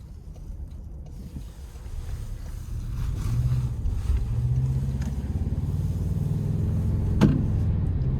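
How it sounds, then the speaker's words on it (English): 2026 Toyota Tacoma TRD Off-Road with the iForce Max hybrid engine and blow-off valve, heard from inside as a steady low engine drone that builds under acceleration, with a brief sharp whoosh near the end. "what really makes it feel more powerful than it is the blow-off valve sound you get here"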